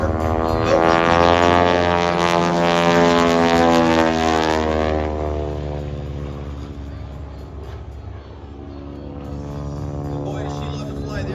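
A 450 hp Boeing Stearman biplane at full power during an aerobatic air show display, its radial engine and propeller droning loud and steady with strong harmonic bands, then easing slightly as the aircraft moves away, heard from the grandstand.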